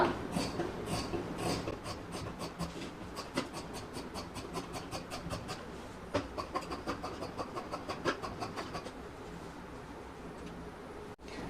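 Scissors cut through lining fabric in a quick run of close, crisp snips, steady and rhythmic, then slowing before stopping.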